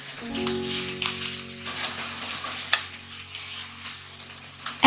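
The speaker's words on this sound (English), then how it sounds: "Now adding half teaspoon of cumin seed, 1 dry red chili which I have broken from the middle, and then finely chopped onion." Cumin seeds, a broken dry red chili and finely chopped onion sizzle and crackle steadily in hot oil while being stirred, close up, with a faint hum underneath and a clatter at the end.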